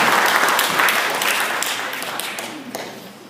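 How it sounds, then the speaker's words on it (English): Audience at a Nashville development meeting breaks into steady applause, a dense wash of many hands clapping that slowly fades in strength over a few seconds, with little talk over it. "So give yourself a round of applause."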